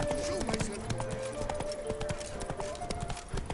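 Roach, a horse in The Witcher 3, trots with steady clip-clopping hooves under speech and a low musical background.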